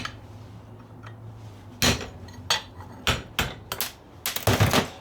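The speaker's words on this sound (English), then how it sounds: "Hammer those out nice and easy." Small scrap metal pieces are hammered out, with sharp metallic blows arriving irregularly and then in quick clusters, close and loud, with no talk.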